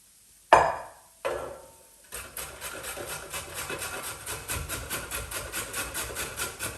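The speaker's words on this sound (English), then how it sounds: "then we're going to grate these into our bowl" Carrot and parsnip are grated into a bowl: two sharp opening strokes, then a steady run of rhythmic rasping scrapes, close and clear with no talking.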